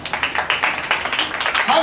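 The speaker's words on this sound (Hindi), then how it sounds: "हर बात को के ताली बजाइए" A church congregation claps at a sermon, producing a rapid run of close, loud hand claps through the short moment, with a voice rising at the very end.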